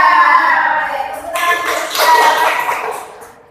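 Sharp hand claps in a quick rhythmic burst, fairly close and loud, with a bright ringing tone underneath and no clear talking.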